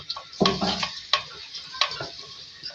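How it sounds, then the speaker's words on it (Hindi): Ginger-garlic paste frying in a pot for handi daal, a soft sizzle under several clinks and scrapes of a spoon stirring against the metal. "अब इसमें ऐड करेंगे अदरक लहसुन का पेस्ट 2 खाने के चमचे, इसको फ्राई करेंगे"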